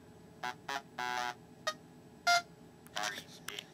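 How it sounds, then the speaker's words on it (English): Buzzer effect from a Nintendo DSi sound recorder, a series of short electronic buzzy bleeps in uneven bursts, several brief and one held a little longer, fairly quiet over a low background hum. "And a buzzer."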